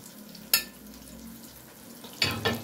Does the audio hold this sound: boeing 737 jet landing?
no